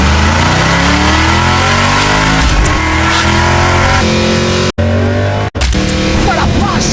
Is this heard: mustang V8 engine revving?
yes